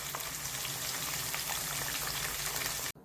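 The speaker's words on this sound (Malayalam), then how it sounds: "നമ്മൾ ഗ്രീൻ പീസ് എല്ലാം കോക്കനട്ട് ഓയിലിൽ ഇട്ടിട്ടുണ്ട്." Green peas frying in coconut oil over medium flame give a dense, even crackling sizzle, close and continuous, cutting off abruptly at the end.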